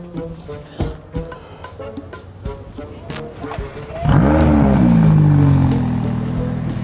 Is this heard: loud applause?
no